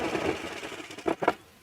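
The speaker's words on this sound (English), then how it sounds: "what I love about the serger is it feeds it in, and it's going to trim that edge" A serger sewing machine trims and overlocks a fabric edge, giving a brief soft whirring run with a couple of quick louder bursts near the end, close up.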